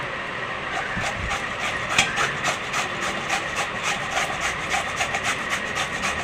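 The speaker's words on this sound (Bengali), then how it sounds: "এই গেটার দিয়ে এবার ঘষে নেবো" Snake gourd skin scraped against a metal grater in a home kitchen, a steady run of quick, rhythmic rasping strokes, close and fairly loud throughout, with no talking.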